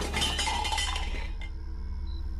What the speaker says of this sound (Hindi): शोर ऐसा था जैसे कोई बर्तन को ज़ोर ज़ोर से फेंक रहा था।